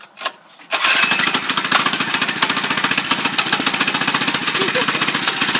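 A Doodle Bug mini bike engine cold-starts after a short pull, catching abruptly and then running loud and rough with a fast, steady put-put rattle that stays close throughout.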